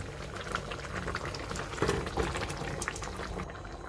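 Papaya payesh bubbles hard in a pot over a high flame, a dense, steady close boiling burble with a few louder pops and no talking.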